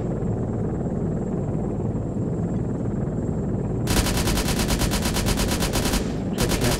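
A helicopter's air-to-air gun fires in the Arma 3 video game, loud rapid bursts over a steady rotor drone, with a brief pause before a second burst.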